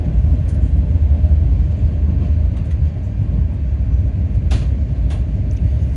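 A Secunderabad to Vasco da Gama express train rumbles steadily along the track, a constant loud low roar heard from inside the coach with faint rattles and clicks and no talk.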